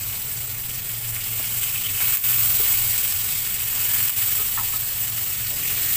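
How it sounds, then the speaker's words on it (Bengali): Chopped spinach and vegetables with salt, turmeric and green chillies sizzle steadily in a pan, a continuous close frying hiss with a few faint stirring scrapes, no voices. "2 থেকে 3 মিনিট এভাবে একটু ভেজে নেব।"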